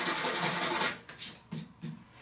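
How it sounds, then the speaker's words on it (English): A brush scrubbed hard with heavy pressure to clear wax and debris from a gouge in a snowboard base, a steady close rasping rub followed by two shorter separate strokes. "And just to get anything out with this knife, quickly give it a brush."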